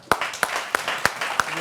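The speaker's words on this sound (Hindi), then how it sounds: "तालियां!" Audience clapping during a cricket-themed interview with Gautam Gambhir, five sharp, evenly spaced claps ringing out close by over a faint room background.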